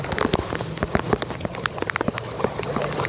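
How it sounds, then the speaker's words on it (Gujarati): Rain pattering steadily on a hard surface close by on a road in Ahmedabad, with scattered sharp drips and splashes throughout and a low background hum. "જોઈ લો આ વરસાદ"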